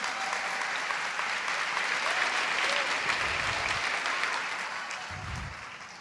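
Sustained applause from a church congregation, a dense wash of clapping at moderate level that holds steady and slowly fades near the end.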